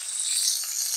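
A soft, even sizzle of vegetables frying in a pan with chili powder just added, a steady hiss with a faint low bump partway through and no talking.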